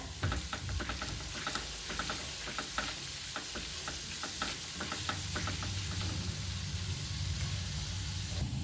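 Chana dal roasting in hot oil in a pan for a curry leaf chutney, a steady close sizzle with repeated scraping stirs throughout, no voices.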